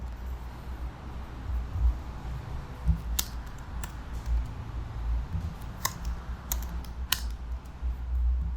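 Code for a Node.js server is typed on a computer keyboard, with scattered crisp key clicks in small bursts over a low, steady hum and rumble, close by and fairly clear.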